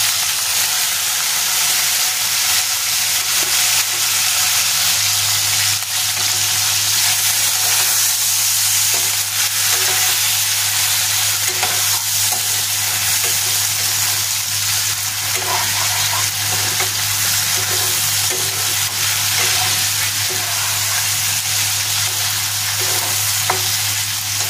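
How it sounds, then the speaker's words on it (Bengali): Tengra fish frying in hot oil with black cumin, a steady close sizzle and crackle that runs unbroken from start to finish, with occasional stirring scrapes and no voices. "তেল গরম হয়ে গেছে, দিয়ে দেব কালো জিরে, এবার দিয়ে দেব মাছগুলো।"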